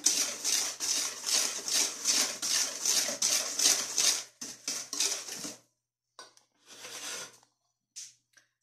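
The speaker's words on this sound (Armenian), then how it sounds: "հիմա մի հատ լավ խառնում եմ" Batter being stirred firmly in a bowl, a rhythmic run of quick scraping and clinking strokes that repeats for several seconds, then breaks into short, scattered bursts with silent pauses between.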